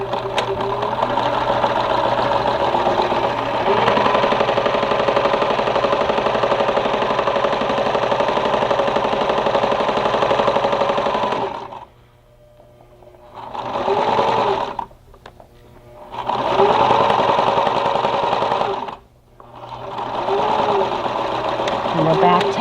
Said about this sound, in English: I'm going to quickly sew this for you, and then you're going to see your quilt already begin to come together